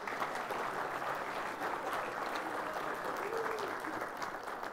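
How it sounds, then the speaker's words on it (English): A church congregation at Sunday Mass applauds the mothers, a steady, moderate wash of clapping that holds evenly throughout with a faint murmur of voices beneath. "And a nice round of applause for the moms."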